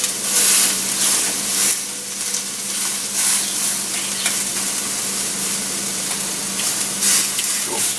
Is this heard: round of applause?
no